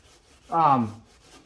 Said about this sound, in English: get some of that old gasket off of there.